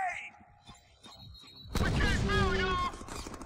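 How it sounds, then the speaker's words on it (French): A grenade thrown and exploding in the Deadpool video game: a quiet stretch of scattered game noises, then a sudden loud burst followed by a sustained roar of blast and debris, with in-game voices over it. "On va lancer une grenade,"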